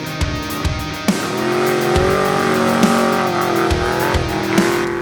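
A Baja 1000 race truck drives at speed in the 2023 off-road race, its engine droning loud and steady with rises in pitch as it revs, the truck close and no one talking.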